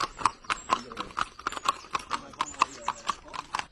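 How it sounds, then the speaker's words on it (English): Horses clop along a village street in a quick, regular rhythm of sharp hoof strikes, close by and distinct, with a brief neigh among the footfalls. "Lovely horses though."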